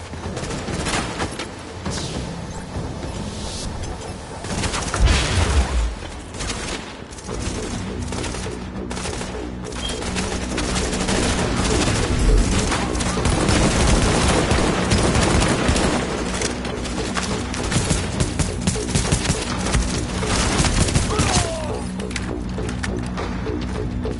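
Sustained rattling gunfire in a PS4 video game, dense and continuous at a steady loud level with intermittent sharper shot accents throughout.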